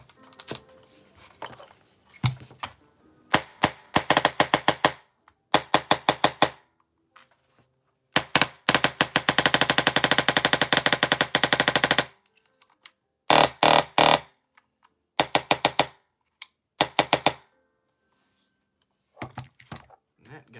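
A Polarstar Jack airsoft gun running on compressed air, built for close-quarters play, fires in sharp mechanical bursts: short strings of rapid shots and one long sustained volley near the middle, with silent gaps between bursts.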